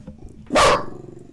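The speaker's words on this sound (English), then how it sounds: "She's literally barking into the microphone." A dog gives one sharp, loud bark right up close to a microphone, a brief burst over a low background murmur.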